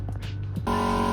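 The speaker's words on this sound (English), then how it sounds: "excuse the noise of the compressor" An air compressor kicks on partway through with a loud, steady mechanical hum and buzz, after a few faint knocks and rustles, in a garage during car headliner removal.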